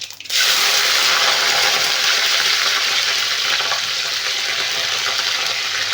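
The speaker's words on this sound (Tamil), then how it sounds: "அடுத்தது பூண்டும் கருவேப்பிலையும் போட்டுடலாங்க." Garlic and curry leaves hit hot oil in a frying pan that already holds mustard seeds and urad dal. They give off a loud, steady, hissing sizzle close up that starts abruptly and holds for the rest of the clip.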